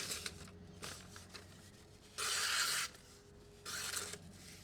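A Spyderco Paramilitary 2 knife slices paper in two short, raspy strokes, each about half a second long, with fainter scraping touches before them. The sound is close and fairly quiet, with no voices.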